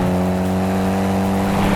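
Mitsubishi Evo race car at full throttle on a road course at Virginia International Raceway, a loud, steady, close engine drone with strong harmonic tones holding a sustained pull and rising slightly near the end.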